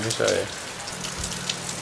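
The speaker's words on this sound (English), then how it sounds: "it's just a gray day, pouring down rain, and it's on its way" Heavy rain from Hurricane Irma pours down in a steady, hissing patter close by, with a brief low murmur that may be a voice partly under it.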